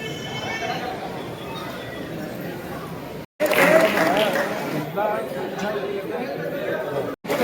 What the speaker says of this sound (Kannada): ಜೋರಾದ ಚಪ್ಪಾಳೆ ಹೊಡೆದು